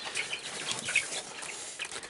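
A young chick from a brood of chickens peeps in quick, faint, high chirps, scattered irregularly over a quiet background with no talking.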